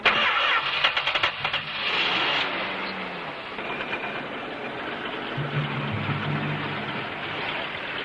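A car engine cranks and catches near the start, then settles into a steady mid-pitched running hum with a low rumble swelling later on, no voices.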